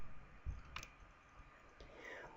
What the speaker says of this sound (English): Click on Login.